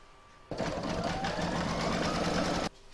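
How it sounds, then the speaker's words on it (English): An embroidery machine stitches a round on fabric held in the hoop, a steady rapid mechanical whirr that starts abruptly, runs loud and close for about two seconds, then stops cleanly. "I'm going to pop that back into my machine and stitch round number 4 to secure it"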